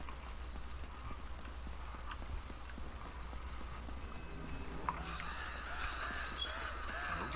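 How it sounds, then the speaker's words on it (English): Crows caw over a busy game soundscape in Uncharted: Drake's Fortune, the calls mixed with steady ambient noise and rhythmic clopping. "These damn crows don't get out of my way."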